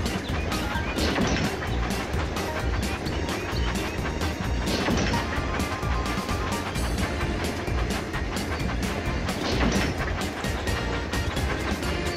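A continuous rattling train sound from a video game, with dense clacks and thumps running steadily throughout, loud and busy with no pauses.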